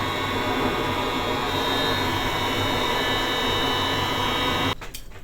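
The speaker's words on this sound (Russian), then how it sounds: "Строительный фен." A construction heat gun blows into a fireplace fire, giving a loud, steady roaring whoosh that holds constant for about five seconds before cutting out with a brief clatter at the end.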